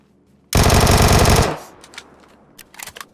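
Machine gun fire in a battle video game: a loud, close, rapid burst lasting about a second, trailing into a short echo followed by a few scattered distant shots.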